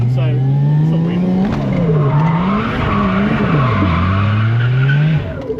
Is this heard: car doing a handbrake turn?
yes